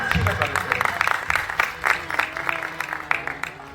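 A gathered audience at a spiritual discourse on the Bhagavad Gita applauds to welcome a revered guru, with uneven bursts of clapping rising and falling in waves and some voices mixed in.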